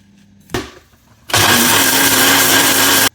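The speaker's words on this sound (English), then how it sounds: "So what I'll do is I'll just wait for a few minutes and then grind these." A mixer grinder grinds desiccated coconut into wet masala for sambar, starting abruptly after a brief knock and running as a loud, steady whirring roar for nearly two seconds before cutting off.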